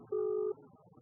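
A single short electronic telephone tone, steady and clear, lasting under half a second against quiet background.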